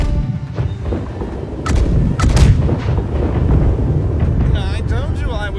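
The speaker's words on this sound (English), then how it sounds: "long distance shooting, fire the other." Heavy ship side cannons boom in the naval video game Blackwake, several loud blasts clustered in quick succession over a continuous background rumble, with voices calling out in the mix.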